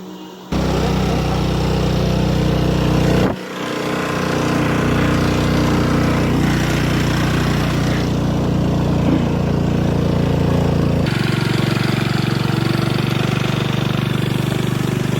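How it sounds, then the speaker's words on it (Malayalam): A small Honda Dio motor scooter engine drones loudly and steadily, labouring uphill under load, with a brief dip in the middle before the strained hum resumes. "വണ്ടി വലിക്കാൻ നല്ല പാടുപെടുന്നുണ്ട് ഞങ്ങൾ. സ്കൂട്ടിയാണ്"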